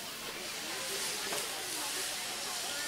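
Chicken pieces are added to a pan of tomatoes, green chili, fresh ginger and ground coriander in an Indian kitchen, setting off a loud, steady sizzling hiss.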